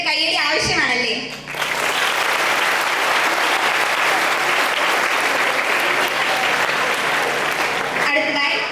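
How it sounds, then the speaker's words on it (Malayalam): Sustained loud applause from an audience at a school cultural programme in Kollam, following a brief spoken announcement and ending as another voice begins. "തീർച്ചയായും ഇതിനൊരു കയ്യടി ആവശ്യമാണല്ലേ?"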